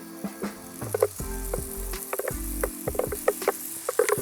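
Curry paste hits hot oil in a pan with a steady sizzle and frying crackle, punctuated by sharp clicks and scraping knocks from utensils against the pan, close and fairly loud.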